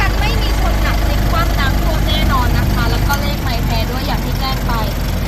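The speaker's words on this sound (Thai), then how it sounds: "เครื่องยนต์ยังนิ่งอยู่เลยนะคะ เครื่องนี้ดีมาก" A 2022 Isuzu D-Max Spark single-cab pickup with a 3.0 engine idles steadily and loudly up close, while someone talks over it throughout.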